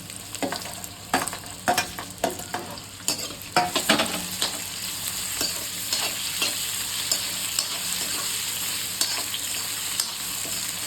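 Potatoes and chillies fry in a pan with steady sizzling, broken by a run of sharp scraping stirs in the first few seconds, then a continuous hiss with occasional clicks as the pieces settle.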